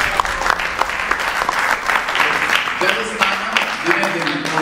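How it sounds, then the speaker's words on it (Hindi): Audience at a Bhagavad Gita talk clapping energetically, an even stream of handclaps with scattered voices mixed in. "जो लोग नहाते हैं वो तो ताली बजाओ।"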